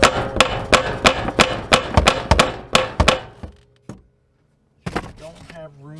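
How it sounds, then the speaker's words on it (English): A hammer pecks at a broken pipe nipple in a quick series of about a dozen sharp metallic strikes. It pauses, lands one more lone hit, and then someone speaks. "Don't have room to turn and peck it with a hammer at the same time."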